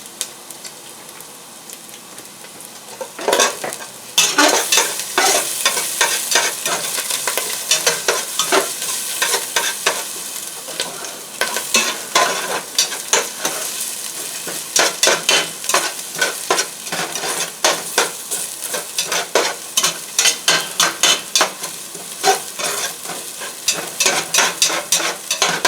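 Chicken curry frying and being stirred over high heat, a steady loud sizzle with repeated scraping stirs that grow busier and denser after the first few seconds, no voices.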